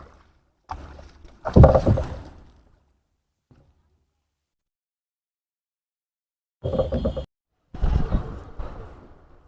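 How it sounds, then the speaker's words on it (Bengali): A rowboat is brought in to shore on a lake, with close, hollow knocks and scraping thuds of wood in two separate bursts, the first longer and louder, split by several seconds of near silence. "জাহাজ ভিড়াই ফেলছি।"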